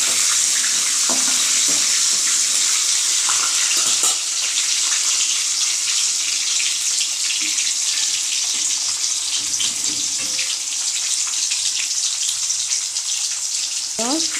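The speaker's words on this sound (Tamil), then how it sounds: "இதை நல்லா வதக்கிக்கலாம்." Small onions and a few garlic cloves sauté in a pan for a Vallarai keerai chutney, giving a steady, close sizzle that hisses without a break from start to finish.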